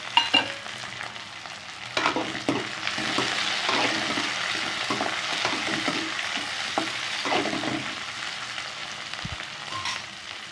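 Curry leaves and green chillies frying with onions in oil for poondu kulambu, a steady sizzle with spoon stirs and scrapes against the pan, fairly close.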